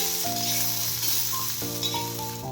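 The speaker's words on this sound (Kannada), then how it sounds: "ಒಂದು ಬಟ್ಟಲು ಉಳ್ಳಾಗಡ್ಡಿ ಕಟ್ ಮಾಡಿ ಇಟ್ಕೊಂಡಿದ್ದೆ ನೋಡ್ರಿ ಹಾಕೋಬೇಕು ಇವನು ಚಂದ ಕಲರು ಟ್ರಾನ್ಸ್ಪರೆಂಟ್ ಕಲರ್ ಆಗೋ ತನಕ ಹುರ್ಕೋಬೇಕ್ರಿ" Chopped onions fry in a pan for a mutton sambar, giving a steady close sizzle with some stirring and a few brief tonal notes over it; no one speaks.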